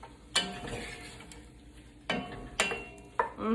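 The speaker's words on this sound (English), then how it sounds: "Give that a stir before I add other ingredients in." A spoon clanks and scrapes against a hot pan while spiced ingredients for a chicken sausage, shrimp and farro jambalaya are stirred on medium-high heat, several sharp metallic knocks over a faint sizzle.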